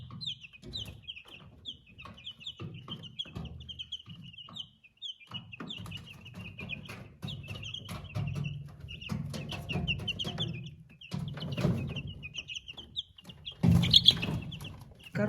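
Ameraucana chicks in a chicken coop cheep steadily in high, rapid peeps throughout, with soft clucking and shuffling underneath and a louder burst of activity near the end.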